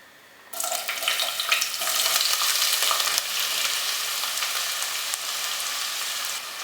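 Chopped onion, ginger and garlic drop into hot coconut oil in a kadai, and a sudden loud, steady sizzle takes over after a brief quiet start. It continues close and unbroken, with a faint scrape midway and no talking.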